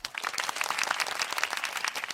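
A crowd applauds steadily, a dense, continuous wash of many hands clapping at an even level throughout.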